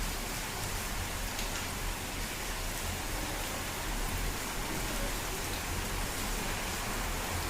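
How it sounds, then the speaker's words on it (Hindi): Heavy rain pours steadily onto a flooded street in India, a dense, continuous hiss of water with no breaks, even in loudness throughout. "बहुत तेज बारिश हो रही है, बिजली कड़क रही है बार बार, बड़ी तेज तेज।"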